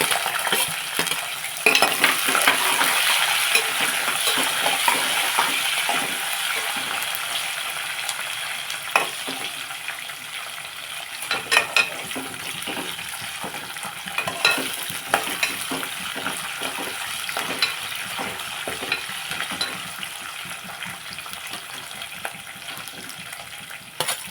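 Chopped onions and green chillies fry in a pan for tomato bath, a continuous close sizzle broken by repeated scraping and clinking stirs, with no voices.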